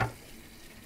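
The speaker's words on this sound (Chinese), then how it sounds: "煎上肉了啊" Meat patties for burgers sizzle in a hot frying pan, with a brief stirring clatter at the start and then a steady soft hiss. The sizzle is close and moderately quiet.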